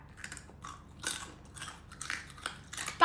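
Crunchy bites into a large deep-fried rainforest scorpion, with several sharp crackling chews spread across a few seconds, close and fairly quiet, with no talking.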